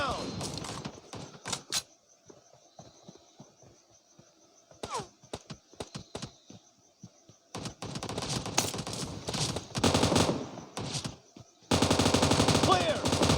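Bursts of automatic gunfire in the battle royale game PUBG, scattered shots at first with quiet gaps, then long sustained volleys that grow denser and louder toward the end.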